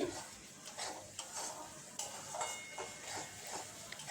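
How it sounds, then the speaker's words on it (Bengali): Masala for dhaba-style masala paneer is stirred steadily in a pan, with a spoon rhythmically scraping the bottom over a faint sizzle, each stroke close and distinct. "সমানে নাড়তে থাকতে হবে তা না হলে নিচে মশলা লেগে যাবে"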